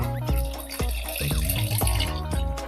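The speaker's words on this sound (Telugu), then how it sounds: "ఇందులో ఇప్పుడు మనం తగినన్ని నీళ్లు పోసుకొని విజిల్ పెట్టుకోవాలండి. నీళ్లు పోస్తున్నాను నేను." Water pours into a pressure cooker holding mutton in a loud, gurgling stream with shifting splashes and bubbling tones, close by.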